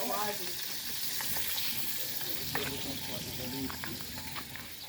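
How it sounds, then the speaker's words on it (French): Fish fries in a metal pan at a makeshift outdoor cooking setup in the Philippines, giving off a continuous crackling sizzle, with scattered pops and clatter and faint voices in the background. "On cuit le poisson."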